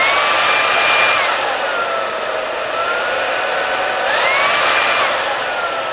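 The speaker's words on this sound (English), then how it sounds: "So you just press it. It's going to start vacuuming from here." A Honiture P7 Pro cordless vacuum cleaner runs with a loud, steady high whine whose pitch rises and falls as it works, close by and with no voices.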